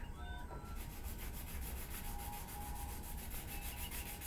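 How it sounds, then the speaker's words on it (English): Steady, continuous hand sanding with a small sanding block on a plastic model kit, smoothing raised super glue, a dry scratchy rubbing with a fast back-and-forth rhythm, close up and alone without talk. "just gently sand away the raised part of the super glue"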